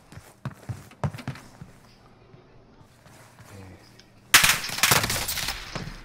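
Gunfire in a shooting video game comes as bursts of sharp cracks and rapid shots, a quieter stretch in the middle, then a loud dense barrage of firing near the end.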